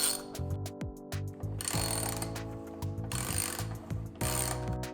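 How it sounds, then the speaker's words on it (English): A 3/8-inch drive ratchet handle clicks in quick rhythmic bursts, metallic ticks close up, with short pauses between strokes and some ringing metal tones. "Those sockets and bits can be driven with this 3/8" drive ratchet handle."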